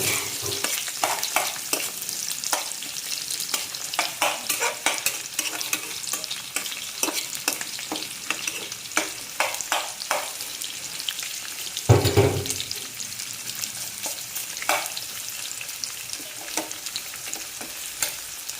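Onions fry in a pan with spices for an Indian-style duck curry, a steady close sizzle with frequent scraping stir strokes and one louder clatter partway through.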